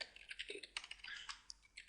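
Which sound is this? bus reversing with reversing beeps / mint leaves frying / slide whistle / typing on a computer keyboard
typing on a computer keyboard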